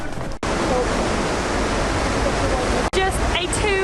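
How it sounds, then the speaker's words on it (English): Atlantic Ocean surf at Casablanca, a steady roaring wash of breaking waves heard close and loud, broken by brief cuts, with faint voices near the end. "Just a 2-minute walk and we have made it to the Atlantic Ocean."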